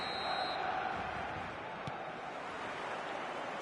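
Stadium crowd noise from the eFootball video game, a steady dense roar with no break across the whole stretch and one faint brief whistle-like accent partway through.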